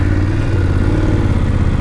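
Motorbikes ride the high mountain road to Umling La in Ladakh with a steady, loud engine drone and wind rumble close by, with no voices.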